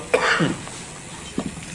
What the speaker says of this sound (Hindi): ये पीछे से खांसी आ रही है